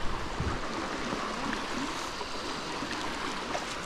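A strong river current rushes along in Norzagaray, Bulacan, giving a steady, fairly faint wash of flowing water with no voices.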